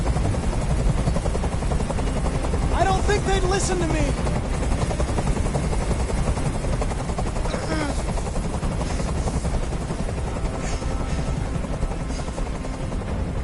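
Helicopter hovering overhead in the Detroit video game hostage scene, a steady loud rotor drone filling the whole stretch, with a voice speaking over it.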